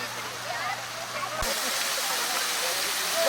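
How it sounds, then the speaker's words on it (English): Fountain water at Brindavan Gardens splashes and hisses as a steady broadband wash, moderately loud and continuous, with a faint low hum cutting off partway through. "Here we have the fountains."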